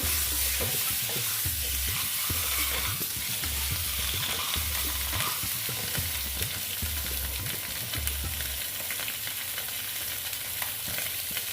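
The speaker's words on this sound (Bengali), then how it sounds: "এইভাবে পুরোটা ভেজে নিচ্ছি" Halved boiled eggs fry in oil for an Afghani egg curry, a steady loud sizzle with bursts of crackle and stirring scrapes throughout, no voices.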